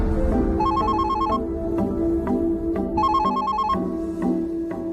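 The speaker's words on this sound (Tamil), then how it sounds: "லேண்ட்லைன் அடிக்குது" Landline telephone ringing indoors in two loud electronic ring bursts with a short pause between them, steady ringtone pattern with no talking.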